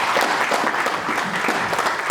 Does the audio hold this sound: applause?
yes